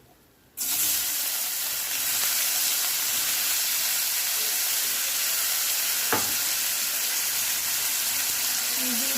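Onion with whole garam masala sizzles steadily in hot oil, a loud continuous frying hiss that starts abruptly after a quiet moment, with a brief scrape of stirring partway through.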